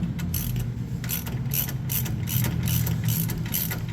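A ratchet tightens the bolt of a steering stabilizer on an Ineos Grenadier, its pawl giving a steady run of rapid close clicks in quick repeated strokes with no talk.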